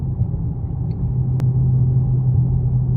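Steady deep rumble of an idling Dodge Hellcat V8 fitted with a JLT intake, loud and close, with a continuous low throb and one brief sharp click partway through, no talking.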